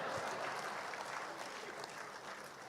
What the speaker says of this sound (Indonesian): Berikan tepuk tangan buat saya.